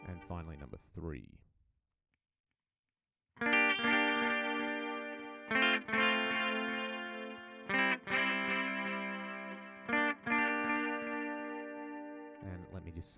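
A guitar plays through a delay preset on a FAS AX8 effects unit, with a brief voice at the start, a pause, then sustained distorted chords with echoing repeats and several restrummed changes.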